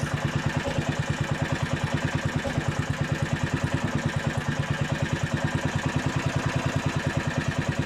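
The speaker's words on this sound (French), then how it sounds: "Ce qui est bien, c'est qu'au moins avec ces moteurs là au ralenti on s'entend causer." A Honda HR21 lawn mower engine idles steadily and close by, with a fast, even putter that holds for the whole stretch. No one speaks.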